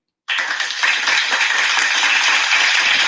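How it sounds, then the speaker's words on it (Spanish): Applause from an audience at a live workshop session, starting abruptly and then holding as a steady, dense wash of clapping to the end, with no voices over it. "aplausos"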